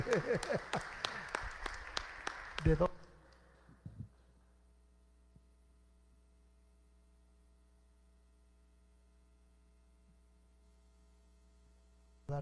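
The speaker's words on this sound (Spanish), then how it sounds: "Y damos un fuerte aplauso y decimos felicidades." A church congregation at Sunday Mass breaks into a brief round of brisk clapping that stops abruptly after about three seconds, leaving a quiet room with a low steady electrical hum for the rest.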